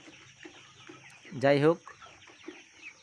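Sonali chickens on a poultry farm give one loud, near squawking cluck mid-clip, with fainter scattered clucks and a brief spoken phrase around it.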